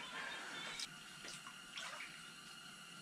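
A pike released back into lake water at Crawling Valley, with continuous splashing and sloshing close by and a few brief louder splashes, no talking.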